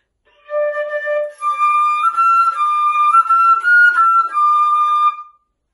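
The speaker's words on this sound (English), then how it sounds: "But the flute plays very high notes too" A flute climbing into its very high register, a soft lower note giving way to bright, piercing sustained tones that waver slightly in pitch, played solo and close for several seconds.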